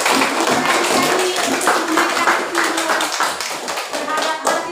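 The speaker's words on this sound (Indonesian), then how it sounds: "tepuk tangan dulu untuk Aziza yang sudah berani" Classroom applause for a student named Aziza, brisk and continuous clapping from many hands, close and loud, with some murmured voices underneath.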